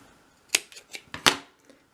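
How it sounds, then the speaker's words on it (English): Scissors snip a thread knot off a 1/12 scale dollhouse stair basket, giving a few short, close, crisp cuts spaced across a quiet moment, the last one loudest. "I'm going to trim that knot off."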